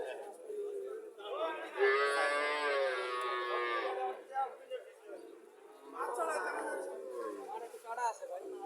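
A Sahiwal cow at a Comilla livestock market lets out a long, loud moo followed by a shorter second call, with crowd chatter and voices around it.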